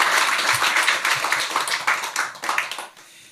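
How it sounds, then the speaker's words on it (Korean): A church congregation claps in encouragement for the choir during Sunday worship, brisk dense clapping that thins and stops near the end. "다시 한번 격려의 박수 하겠습니다."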